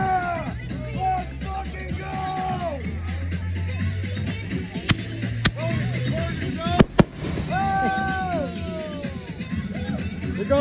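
Firework rockets launching at a July 3rd backyard show: whistling rockets rise in several sweeping tones, with sharp cracks and pops near the end, while people talk and shout nearby throughout.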